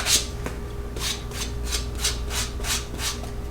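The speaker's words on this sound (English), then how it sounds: "normally I'll go back to my rough grit sandpaper and hit these edges a little bit" Rough grit sandpaper rasps along the edges of a leather card holder in about nine steady, evenly spaced strokes. The rubbing is close and fairly quiet, with no talking.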